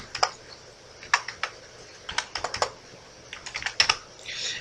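Fingers type on a computer keyboard while entering data into garment shop point-of-sale software, quick irregular bursts of crisp clicks and key taps, close and fairly quiet, with no talking.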